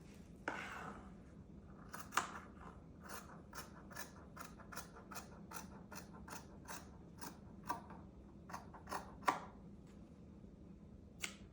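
Scissors snip through a fabric pattern folded in half, a quiet, close series of crisp regular clicks and cuts with short pauses between them.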